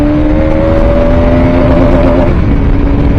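A sports motorcycle engine is held at high revs before a late gear shift, making a loud, steady, close droning whine whose pitch dips slightly near the end.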